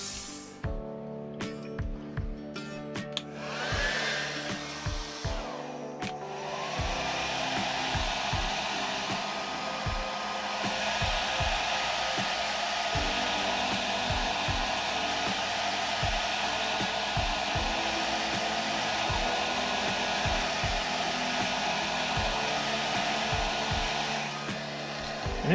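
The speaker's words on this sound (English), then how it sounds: "you'll hear that air compressor come on" An air compressor kicks on during outdoor spray painting of custom fishing lures, then gives a loud, continuous hissing roar with rhythmic thumps underneath.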